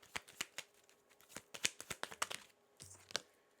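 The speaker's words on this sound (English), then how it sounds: "Let me shuffle real quick" Playing cards being shuffled by hand during a tarot-style reading: a quick run of crisp riffling snaps and flutters, close and fairly quiet, with no talking over it.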